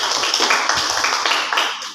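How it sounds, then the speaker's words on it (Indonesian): A class of schoolchildren clapping their hands together during a morning lesson greeting, a dense, steady patter of many hands close by with no talking. "Tepuk tangan untuk kita semuanya."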